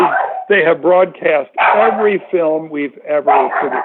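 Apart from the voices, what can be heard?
dog barking at someone passing by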